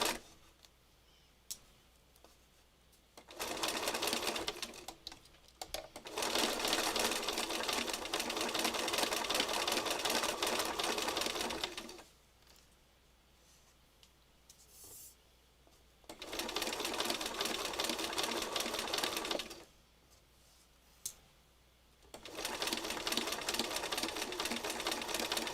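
A sewing machine runs in long steady bursts, stopping and restarting several times, loud and close with no talking over it.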